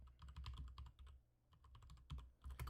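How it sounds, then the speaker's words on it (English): Rapid clattering keystrokes on a computer keyboard typing into a live stream chat, close and steady in quick bursts with a brief lull in the middle, no talking. "I'm just typing in the YouTube chat."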